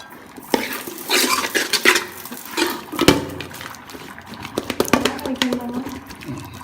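Mashed tapioca being stirred in a pot after oil is poured in, Nagercoil style, with repeated loud spoon clatters and scrapes against the metal in an irregular rhythm, close up, with faint voices in the background.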